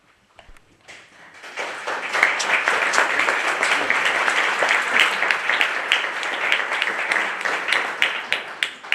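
Audience applause for a speaker being welcomed to the podium at a talk, a dense, steady crowd clapping that swells in after a quiet start and holds loud and sustained to the end.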